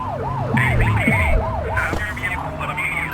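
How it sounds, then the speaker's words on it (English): Police car siren in the game Precinct, loud and close, its repeated rising-and-falling wail running through the whole stretch with engine and traffic noise beneath. "Get on their tail and flip the siren."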